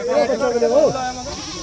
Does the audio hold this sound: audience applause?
no